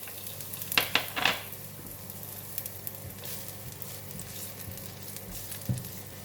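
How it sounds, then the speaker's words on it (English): Garlic sizzles in hot cooking oil in a pan, a steady close frying hiss with a few sharper crackling bursts early on, no voices. "When the oil is hot, I'm putting in the garlic."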